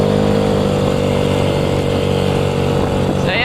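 A Yamaha Mio i 125 scooter with a 59 mm big-valve setup being ridden over uneven concrete, its engine droning steadily and loudly up close with a rough, buzzy tone, then rising in pitch at the end.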